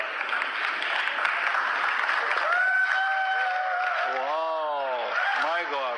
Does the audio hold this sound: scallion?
no